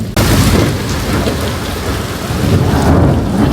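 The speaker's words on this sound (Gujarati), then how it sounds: "વીજળી કડાકા કેટલા થાય છે" Heavy downpour in Surat drumming loudly and steadily on surfaces nearby, with deep rolling thunder swelling beneath the rain; no talk.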